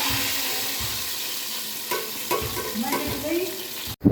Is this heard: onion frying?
yes